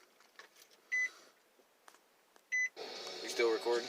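Two short electronic phone message notification beeps, about one and a half seconds apart, sound clearly over a quiet room, and then people begin talking.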